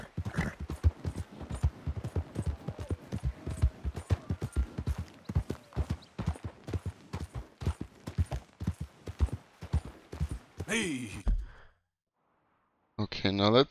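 A horse's hooves clip-clop in Red Dead Redemption 2, a fast, steady run of close hoofbeats for about eleven seconds before cutting out, with faint talk underneath.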